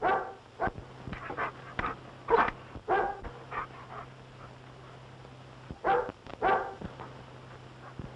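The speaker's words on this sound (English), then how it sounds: "I'm mighty glad to see that you have Carl Pearson's dog here." A dog barks in short bursts and whimpers between them, close by, with a low steady hum in the background and no speech.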